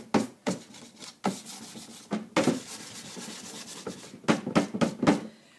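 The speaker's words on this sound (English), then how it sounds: "You just kind of get in here and just sand away." Chalk-painted furniture being distressed by hand with sandpaper: short, rhythmic rubbing strokes come in quick bursts with brief pauses, close and fairly loud, with no talking.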